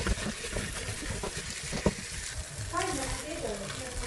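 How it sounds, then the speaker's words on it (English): Fish mashed with rempah spice paste for mohinga fries in a pan, giving a soft, close sizzle with stirring scrapes while someone talks over it. "we're going to fry this until it's dry"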